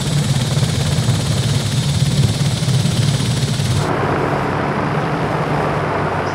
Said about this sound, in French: On a vraiment l'impression qu'il a l'hélicoptère au-dessus de la tête